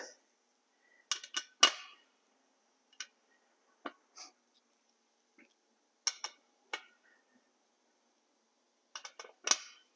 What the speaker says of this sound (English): I'm going to tighten this thing down in 2 or 3 steps.